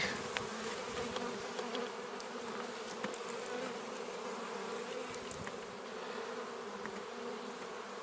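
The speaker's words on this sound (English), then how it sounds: "these bees from Barnyard Bees are very calm bees" Honey bees buzz continuously around an open hive during a frame transfer, a dense steady drone close by with no talking.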